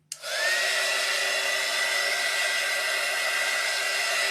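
A hair dryer switches on with a click and then blows with a steady, close whooshing roar as it dries alcohol ink on ceramic tiles, with no speech.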